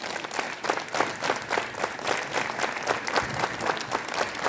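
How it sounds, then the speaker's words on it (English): Students at a school assembly clap their hands together, a loud, even patter of many hands close by that continues steadily throughout. "hands up, clap your hands."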